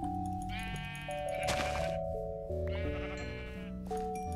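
Sheep bleating in the video game Minecraft, modded Feed the Beast Monster pack: repeated synthetic bleats over steady game background tones and music, clear and close.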